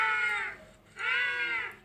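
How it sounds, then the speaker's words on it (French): Two loud, harmonic squawking penguin calls from a Barbapapa animal sound book, in quick succession, bright and nasal, like a recorded bird call played close up. "J'aime bien le bruit des manchots."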